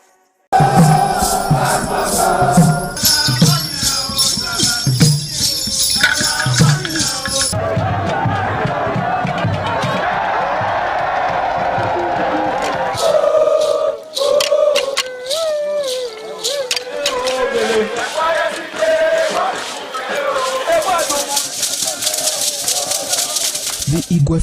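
A festival crowd at the Igwe Festival in Benin Kingdom makes loud, continuous shouting and chanting, with rattling percussion and voices mixed throughout.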